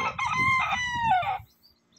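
A gamecock crows once, close and clear, a drawn-out cock-a-doodle-doo over a low rumbling background, then falls quiet.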